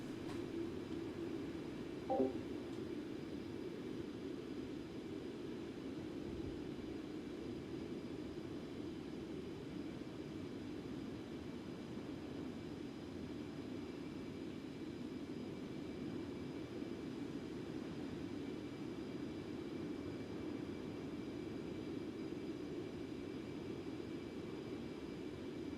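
A Concorde cruising on a Heathrow to JFK flight in X-Plane 12 produces a faint, steady low engine drone, continuous and unbroken, with a single small click early on.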